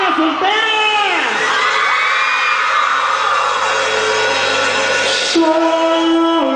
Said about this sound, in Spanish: ¿Cómo gritan las mujeres?